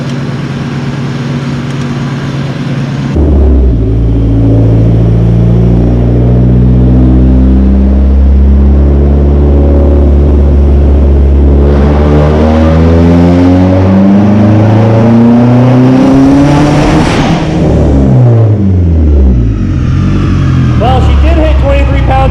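Turbocharged Dodge SRT-4 with a cheap big turbo revving hard on a dyno, the loud engine note climbing steadily in pitch through a long pull after a quiet start, with rising harmonics and a brief drop near the end.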